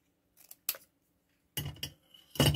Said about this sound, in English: That's my new sewing scissors.